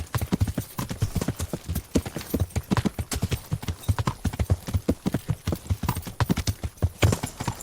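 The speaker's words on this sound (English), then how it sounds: "I don't go anywhere without my horse, though. My magically appearing horse." Horse hooves clip-clopping in Kingdom Come Deliverance, a fast, steady run of loud, close hoofbeats that continues throughout, with no talk over it.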